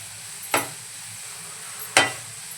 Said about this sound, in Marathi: एकदा परतवून घेऊया।